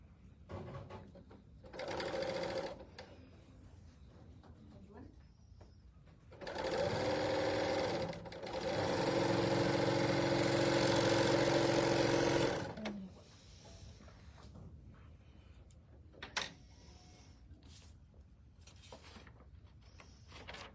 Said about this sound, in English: And we're going to stitch those 2 together.